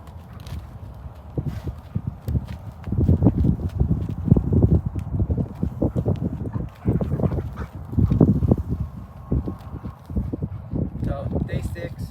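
A ridden horse walks with a steady, close clip-clop of hooves on the ground in irregular bursts, while a rider talks over it.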